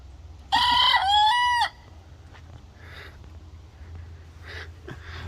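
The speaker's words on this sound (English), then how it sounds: "we gave our roosters to my brother Dave, she started crowing." A hen crows once, loud and close: a harsh, strained cock-a-doodle lasting about a second, followed by quiet farmyard background with faint distant clucks.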